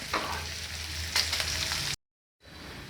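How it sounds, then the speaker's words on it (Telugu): Onions frying in a pan, a dense, continuous hiss and crackle at close range, cut off by a short gap of silence before the sizzle resumes more quietly. "ఉల్లిపాయలు వేసేసాం ఉల్లిపాయలు చాలాసేపు వేగుతాయి"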